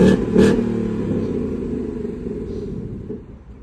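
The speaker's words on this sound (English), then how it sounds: "So that's the engine." A loud, deep 2024 Ford Mustang GT V8 engine rumbles close by, holding steady before easing off and fading at the end.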